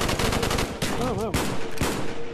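Rapid gunfire from a weapon in a VR zombie shooter game rattles loud and close in dense bursts, with a brief tonal game effect chirping midway.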